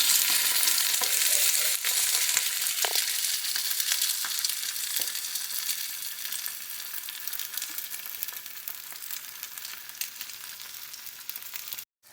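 Over-easy eggs fry in a breakfast skillet with a steady, bright crackling sizzle that holds close and constant before stopping abruptly at the end, with no talk.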